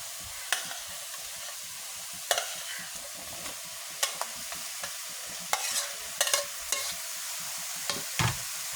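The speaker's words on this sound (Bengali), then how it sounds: "এখন আমার লাউটা দিয়ে দেবো এখানে, কেটে ধুয়ে রাখা লাউ" Cut bottle gourd sizzles softly in a hot pan while a spatula scrapes and knocks against the metal in scattered, irregular strokes, close and fairly quiet with no voices.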